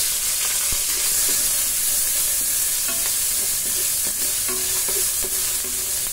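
Ginger frying in a little oil as it is stirred: a steady bright sizzle with scattered scraping stir clicks, close and continuous, no talking.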